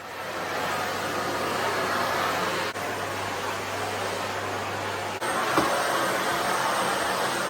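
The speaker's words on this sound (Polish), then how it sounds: "bardzo często wyciągam odkurzacz i odkurzam, co tam się znajdzie" A vacuum cleaner runs inside a Volkswagen Caddy minicamper with a steady, loud roaring hiss. Two brief clicks or bumps break the drone, which continues unbroken with no talk.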